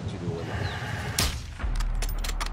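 A sniper rifle shot in a shooting video game: one sharp, loud crack cutting through a busy background, followed by a deep, booming low rumble and more clattering bursts.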